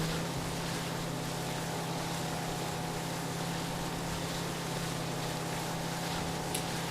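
Small motorboat engine in the video game Far Cry 3, a steady droning hum with a constant low pitch and a rushing, watery wash, loud and unbroken for the whole stretch, with no talk over it.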